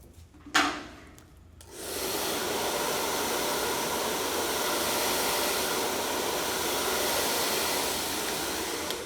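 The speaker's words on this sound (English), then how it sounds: "When I'm happy, then I'll come in with a hairdryer." A hair dryer switches on after a brief clatter and blows steadily and loudly, a continuous broadband rush with no voices.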